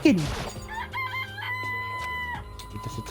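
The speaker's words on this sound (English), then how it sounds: "Chickens! A chicken! A chicken! A chicken! Chicken!" A chicken in the video game Danganronpa: Trigger Happy Havoc gives a drawn-out crowing call over steady game background music, loud and close, ending with a few brief clucks.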